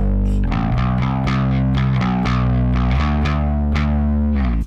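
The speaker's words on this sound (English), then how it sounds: "You don't always have to hit the bass guitar every time the kick drum hits." Overdriven bass guitar in a classic, the bass striking on every kick drum beat in a steady, dense run of loud, even attacks over a sustained distorted band sound, with no talking.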